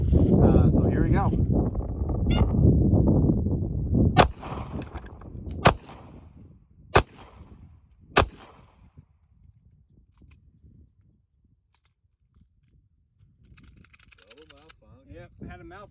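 Four sharp, loud gunshots from a .380 pistol firing self-defense rounds ring out at irregular intervals, following a stretch of talk; quieter handling sounds come after the last shot.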